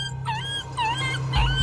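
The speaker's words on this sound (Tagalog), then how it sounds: "Narinig nilang umiyak ito na parang ordinaryong aso." Dog-like crying whimper of an aswang: a few high, wavering whines that rise and fall over a low steady hum, close and fairly loud, with a brief rumble at the end.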